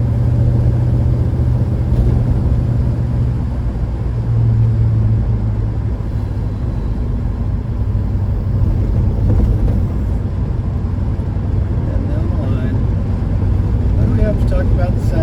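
Engine drone of a manual-transmission car driving along on the road, a steady low rumble with road and wind noise that continues throughout, close and loud, with no other sounds standing out over it.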